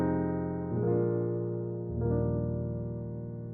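Three sustained chords of a plain 2-5-1 progression on jazz piano, each struck softly and held to ring out, close and clean with no voices.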